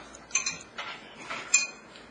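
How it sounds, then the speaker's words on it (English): A spoon stirring flan mixture, giving a few light, sharp clinks against the bowl spaced about half a second apart, close and quiet, with no talking. "Scoop it in and I'll give her a stir."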